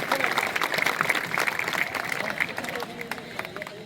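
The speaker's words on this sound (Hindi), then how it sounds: "एक बार जोरदार तालियां बजा दें" Enthusiastic crowd clapping at a village gathering with a sarpanch and MLA present, a brisk burst of applause that gradually thins out, with background chatter and voices mixed in.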